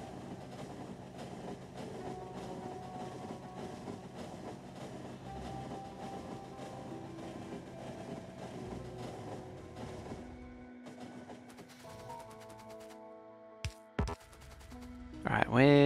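A Factorio train runs with a steady rumbling roar for about ten seconds, then cuts out abruptly into quieter tonal game sounds and a few sharp bursts near the end.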